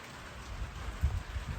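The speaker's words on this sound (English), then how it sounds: "It's a rainy day," Steady rain falls on a rainy day, a close, continuous hiss with soft patters and no voices.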